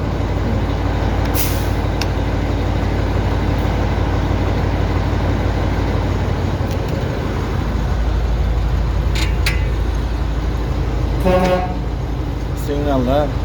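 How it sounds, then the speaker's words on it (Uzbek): A tractor moves under a continuous low engine rumble, with short, sharp horn-like toots breaking through near the end. "Traktor qimirlayapti."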